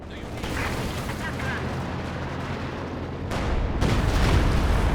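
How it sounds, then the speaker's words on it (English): Artillery fire from a leFH howitzer counter-barrage in Company of Heroes 2: a steady rumbling battle din that swells louder near the end, with dull booms and layered mechanical noise. "Looks like the LFH gone for some counter barrage on that."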